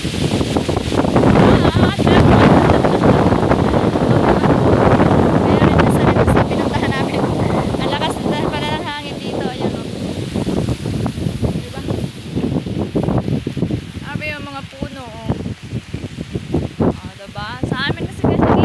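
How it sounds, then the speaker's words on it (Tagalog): Strong wind roars and buffets the microphone throughout, loud and steady, while a person talks over it. "lakas ng hangin dito"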